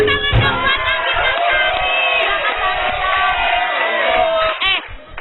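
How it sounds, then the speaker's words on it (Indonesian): A studio audience at an Indonesian TV talk show cheers and whoops loudly for a guest, a sustained crowd roar with shouted voices that dips briefly near the end. "tepuk tangan dong buat Anggita"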